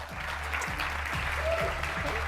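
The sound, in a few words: audience applause for panelist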